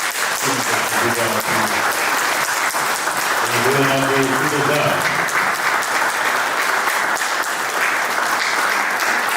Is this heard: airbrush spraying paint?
no